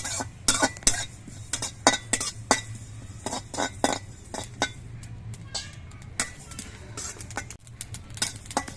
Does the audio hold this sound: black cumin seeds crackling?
yes